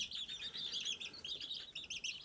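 Young chicks from two combined flocks, about 22 to 24 birds aged two and four weeks, chirp steadily in a high continuous chorus of overlapping peeps, fairly close.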